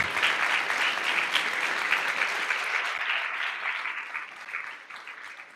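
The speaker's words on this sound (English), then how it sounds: "Let's have another big round of applause for the 2 teams and also for our jury." Steady, dense applause from an audience for two competing teams and a jury at a physics tournament final and award ceremony, loud and sustained before gradually thinning out toward the end.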